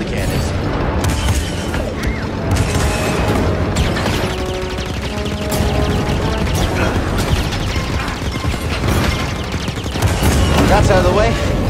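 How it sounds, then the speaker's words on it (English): Cannons fire in Star Wars Jedi: Fallen Order, a loud, dense barrage of booms and blasts with mechanical clatter running throughout. "So that fires the cannons."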